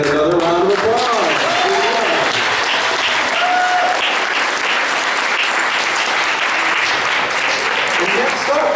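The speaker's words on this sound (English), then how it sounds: "another round of applause" Convention crowd applauding a costume contest entrant, loud sustained clapping from many hands for several seconds, with a presenter's voice talking over the start.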